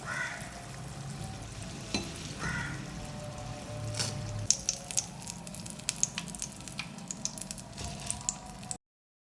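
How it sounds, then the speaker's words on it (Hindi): BBQ qeema roll samosas deep frying in hot oil, a steady fine crackling sizzle with sharp pops and bubbling, close and fairly quiet, with no voices. "ये समोसे भी मैंने फ्राई कर लिए।"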